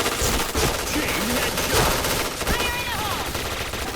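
Automatic fire from an APC9 in the shooter game Point Blank: rapid, loud bursts of shots rattle back to back for the full stretch, mixed with other in-game effects.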